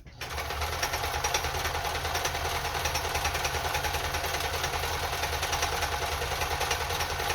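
A Kenmore 10 Stitch sewing machine runs a chain stitch in a steady, rapid mechanical whir and clatter heard up close, starting abruptly and continuing evenly.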